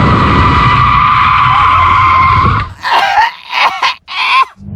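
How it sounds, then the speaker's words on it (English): Tyres screech loudly and steadily for over two seconds during an emergency brake test in a Toyota Supra or Ford Mustang V8, then fade into cabin noise and brief voices. "let's see what it's actually like in a brake test"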